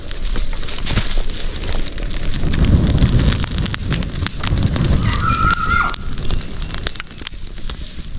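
Brush fire burning on a mountainside coconut grove after gasoline is poured on, a steady broadband roar and crackle with wind noise throughout, fairly loud and without speech.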